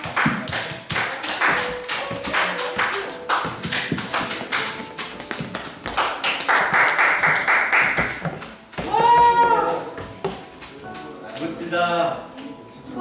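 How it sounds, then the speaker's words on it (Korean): Hand clapping from a group at a high school church youth service, brisk and scattered in the first seconds, then mixing with chatter, exclamations and lively talk. "나올 때 박수 한번 쳐주세요"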